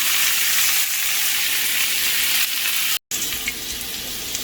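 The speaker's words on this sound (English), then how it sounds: "That's what I want, a hot pan. Put the garbanzo beans in." Rinsed, drained garbanzo beans hitting a hot pan, giving a loud, dense, continuous sizzle that cuts out for an instant partway through, then carries on.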